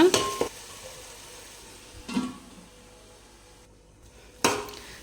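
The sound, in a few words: stirring biryani masala in a pot on slow fire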